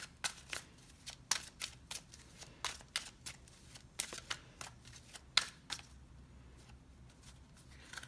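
Tarot cards are shuffled by hand, giving a run of crisp, close riffling snaps and light slaps in an uneven rhythm that eases off toward the end, with no voice heard.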